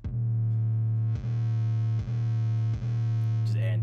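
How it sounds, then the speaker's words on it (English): A heavily distorted, sustained bass-heavy tone with gritty harmonics, punctuated by three distorted kick drum thumps at regular intervals in a trap beat made in FL Studio, loud and close. "I can add some distortion into my kick"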